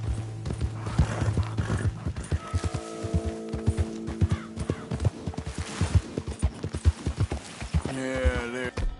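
A horse gallops in a PS4 video game, with a fast, steady clip-clop of hooves under tonal game sounds and a whinny near the end.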